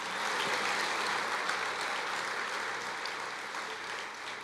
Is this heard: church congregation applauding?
yes